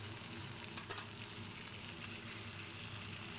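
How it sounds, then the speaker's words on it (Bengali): Tangra fish fry in a pan, one side already cooked, filling the space with a dense, continuous sizzle of hot oil at close range, broken by a brief crackle. "আমার ট্যাংরা মাছগুলো দেখো 1 পিঠ ভাজা হয়ে গেছে, আর আমি অন্য দিকের পিঠটাও উল্টে দিলাম"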